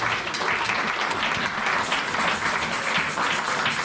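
A church congregation applauds together, a dense, steady wash of clapping that carries on without a break, fairly loud and close.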